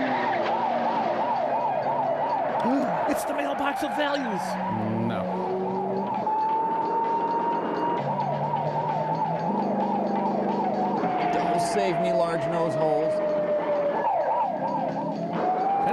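Wailing ambulance siren in a film scene, loud and continuous, alternating yelps sweeping up and down with a long steady wail in the middle, while people talk over it.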